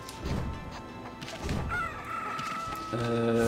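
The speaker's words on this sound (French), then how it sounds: "on a nourri des coqs" Roosters in the video game Okami crow in loud bursts, followed by clucking and a rising tonal crow near the end, all close and without talk.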